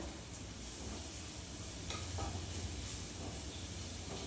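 Chillies and fenugreek hiss and crackle in hot oil as a tadka for dal, a steady dense sizzle with faint clinks of stirring, close and continuous with no talk.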